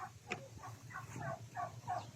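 Fowl at a small poultry farm give a series of short, repeated clucking calls at moderate distance, with steady low background hum and no talking.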